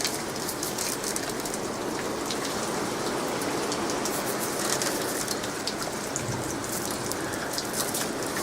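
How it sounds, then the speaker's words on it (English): Hail pours down after a supercell storm, a constant dense hiss and patter of stones striking surfaces nearby, with faint bird calls mixed in. "That is pure hail."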